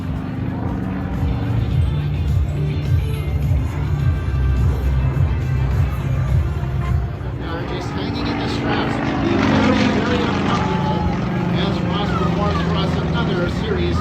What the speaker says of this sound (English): Now I want you to pay attention to this maneuver as he just lets the airplane slip back down through his own smoke.